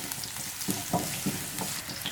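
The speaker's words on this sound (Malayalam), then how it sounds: "ഇപ്പം എണ്ണ നന്നായിട്ട് ചൂടായിട്ട് വന്നിട്ടുണ്ട്. ഞാനിനി ഇതിലേക്ക് ചെറിയുള്ളിയാണ് ചേർത്ത് കൊടുക്കുന്നത്." Small shallots fry in hot oil for a fish curry, a steady close sizzle with soft crackles and a few light stirring taps against the pan.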